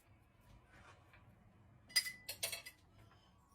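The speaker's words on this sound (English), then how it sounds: "while I put my mixer together" Metal stand mixer parts clink and clatter together in a quick cluster of bright knocks as the mixer is assembled in a home kitchen, close and fairly loud over a quiet low hum.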